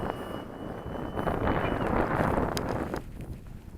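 Strong gusty wind buffets the microphone outdoors while an RC glider is flown, a broad continuous roar that swells and rushes for the whole stretch, loud and close with no voices over it.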